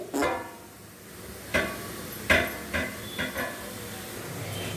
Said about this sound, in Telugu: ఇలా లైట్గా గోల్డెన్ కలర్ వచ్చే వరకు ఫ్రై చేయాలన్నమాట